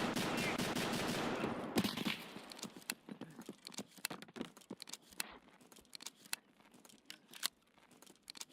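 Sniper gunfire in Escape from Tarkov: sharp, isolated shots crack out one after another with quiet gaps between them, following a louder, denser burst of noise at the start.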